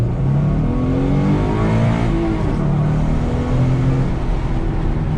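A 2011-2014 Ford Mustang accelerating hard in first gear, its engine note climbing steadily and loudly from inside the car over about five seconds, with no talking.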